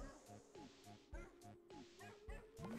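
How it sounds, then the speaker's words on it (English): A cartoonish dog in the A Hat in Time video game gives a series of short, evenly spaced barks like the Undertale dog bark, each one quick and yippy, repeating about five times at low volume. "Is this Undertale dog bark?"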